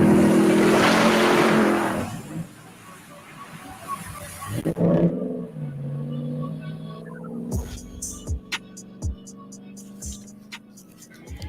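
A white 702 horsepower Ram TRX truck engine roars loudly for about two seconds, then drops to a quieter rumble with clicks and tones, and voices are mixed in.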